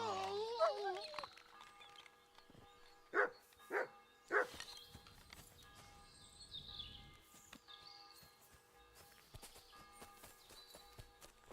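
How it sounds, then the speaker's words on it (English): A dog barks three times in quick succession inside the video game Kingdom Come Deliverance 2, loud sharp yelps over a soft outdoor ambience with faint hoofbeats, preceded by a brief vocal sound. "Someone call up that mutt."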